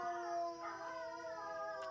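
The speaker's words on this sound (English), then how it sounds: "My dogs, they're gonna howl." Several dogs howl together in response to sirens, their long, sustained, wavering cries layered in harmony and fairly faint, continuing steadily without any talking.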